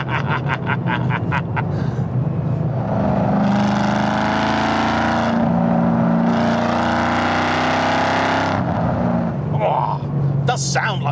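A 786bhp 2005 Ford Mustang on a rainy British road, its engine roaring through two long, loud revving surges separated by a brief dip, with someone talking around them.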